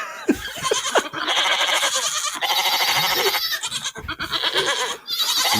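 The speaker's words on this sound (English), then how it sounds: "That sounds like a sheep machine gun." A sheep gun in a video game fires out a loud, dense barrage of overlapping sheep bleats, almost continuous with a few brief gaps between bursts, close and dominant.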